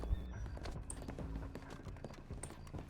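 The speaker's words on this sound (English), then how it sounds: "Don't mind the horse." Horse hooves clip-clop in Red Dead Redemption 2 with a rapid uneven clatter of close, fairly loud hoofbeats, joined by a brief snort or whinny and no talk.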